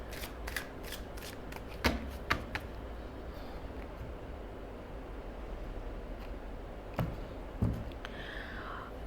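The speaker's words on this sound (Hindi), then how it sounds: "आपके लिए एडवाइस के कार्ड्स ड्रॉ करते हैं" Tarot cards being shuffled and drawn, with a quick run of crisp riffling snaps early on and a few sharp card slaps later, fairly close over a steady low hiss.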